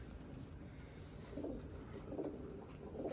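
Soft, low pigeon coos repeat a few times in a quiet setting, faint and slightly distant against steady background hiss.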